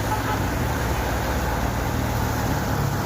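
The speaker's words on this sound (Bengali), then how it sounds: "ওই এক ভাইয়ের গাড়ি আটকে গেছে" A car stuck in floodwater in front of a shop after heavy rain, with a steady low engine rumble blended into a continuous wash of water and rain noise, no pauses and no voices.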